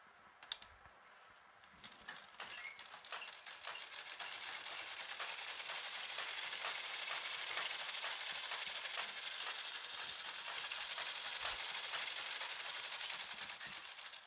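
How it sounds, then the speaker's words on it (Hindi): A sewing machine runs steadily, stitching fabric for a potli bag; after a brief hesitant start it settles into a continuous, fairly loud, close-up whirring patter with no talk. "थोड़ी दूरी पे हमें यहाँ भी सिलाई लगा लेनी है।"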